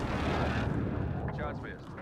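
Air strike explosions in the battle royale shooter Warzone, a heavy rolling rumble of blasts that fades off, with a voice speaking briefly over the tail end.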